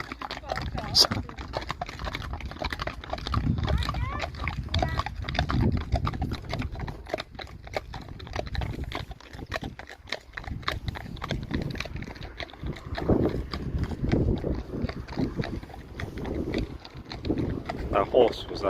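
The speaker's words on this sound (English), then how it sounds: "That horse was scared of the bike, and the bike wasn't even on" A horse's hooves clip-clop along a roadside near a parked motorbike, steady irregular steps under wind buffeting the microphone, with someone talking over much of it.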